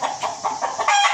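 A rooster calls close by in a short burst of loud, rhythmic clucking, with no other sounds around it.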